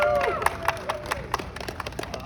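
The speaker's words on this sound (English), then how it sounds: "Big round of applause." Audience applause at a press conference: scattered, uneven claps from a small crowd, individual sharp hand strikes standing out, with brief murmuring and a tonal whistle-like sound early on.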